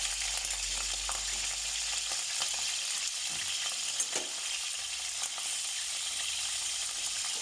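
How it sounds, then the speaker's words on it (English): Dry fish frying in piping hot oil gives a constant, even close sizzle with faint crackles and a few soft pops, and no one speaks. "So the oil is piping hot."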